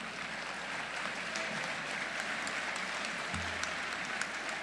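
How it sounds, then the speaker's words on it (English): Steady, even applause fills a hall at a College of Pharmacy hooding ceremony, a continuous wash of many hands clapping at a moderate distance. "That got the loudest applause"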